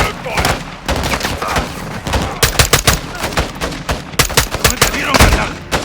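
Gunfire rattles through a Modern Warfare II campaign firefight during a cartel protection mission. Loud, dense automatic bursts and rapid shots overlap continuously, with voices shouting amid the shooting.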